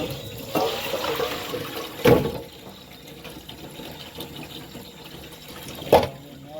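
Water runs steadily from a tap, with a couple of brief louder splashes and clatters as fish are rinsed with vinegar and water underneath.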